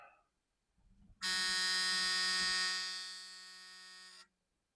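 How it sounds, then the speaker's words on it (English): A Ford F150 warning chime sounds as the ignition switches on: a loud, steady electronic buzz-tone that holds for about three seconds, dips slightly, then cuts off abruptly, preceded by a brief click and rustle. "Go ahead and turn the ignition on here."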